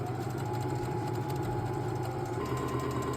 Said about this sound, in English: thought it was funny to record me sewing